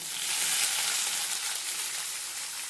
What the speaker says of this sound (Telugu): చూసారా, ఏగాయి ఎర్రగడ్డలు వేస్తాము. ఏగాయి కరివేపాకు అలాగే ఎర్రగడ్డలు.